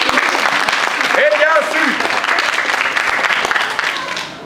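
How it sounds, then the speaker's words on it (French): Audience applause at a French storytelling show fills the whole stretch as a dense, steady clatter of many hands, with a voice speaking over it. "On applaudit Christelle qui nous faisait l'orage."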